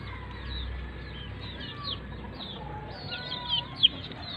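Chickens of a gamefowl bloodline on a farm, soft scattered clucks and chirps over a low background hum, with a sharper, louder call near the end.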